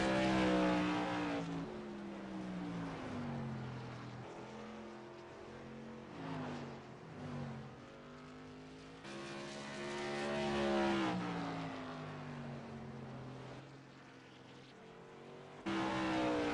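OIL Tour Modified race car engines at Thompson Speedway, light cars with large power plants, wailing at high revs as they pass and shift, pitch sweeping down and rising again in loud, continuous laps.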